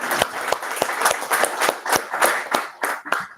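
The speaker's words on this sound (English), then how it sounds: "And we have a round of applause for Rhys for joining us." An audience at a talk about policing in Palestine and India claps in a sparse, rhythmic round of applause, with a few separate hands striking at a steady pace rather than dense crowd noise.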